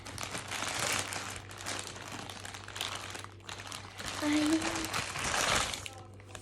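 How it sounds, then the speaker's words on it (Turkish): Pop-it toy delivery package being opened, with continuous crinkling and rustling of plastic wrapping up close while a person talks over it. "Şimdi açalım bakalım ne varmış içinde."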